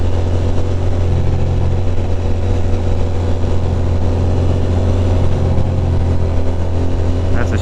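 Motorcycles cruising a country road on a tourist-trophy style ride, a steady loud engine drone with wind rush, held at constant speed throughout.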